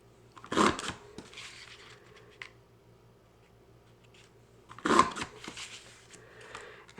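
A handheld paper punch snaps through card stock twice, two sharp crunching presses about four seconds apart at close range, with quiet rustling between.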